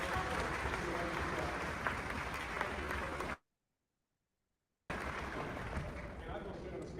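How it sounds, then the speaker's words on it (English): Applause from an audience at an end-of-year telethon, a dense clatter of clapping that cuts out abruptly into a second of silence and then resumes at similar strength. "Let us first of all give a round of applause for our master"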